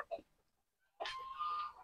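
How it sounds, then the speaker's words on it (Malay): Light Brahma chickens cluck softly nearby, a short cluck followed by a pause and then a longer, faint, drawn-out call. "Ayam Light Brahma yang ada di tempat saya ni."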